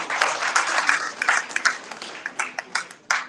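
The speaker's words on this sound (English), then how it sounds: "Can we give them a round of applause?" Scattered audience applause at a book launch, clapping that thins out into a few separate, uneven claps near the end.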